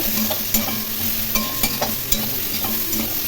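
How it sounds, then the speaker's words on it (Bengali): Ridge gourd and mixed vegetables stirred with prawns in a hot pan, a steady sizzle of frying under repeated scraping strokes of a spatula, close and fairly loud with no talking. "ঝিঙে দিয়ে খুব ভালো করে সবজিগুলো নেড়ে দিয়ে"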